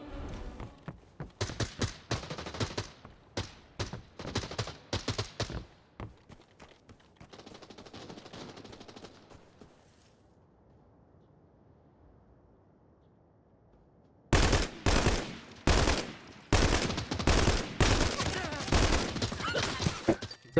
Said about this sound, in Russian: Стрелять только очередями, вообще, типа, смены режима огня нет.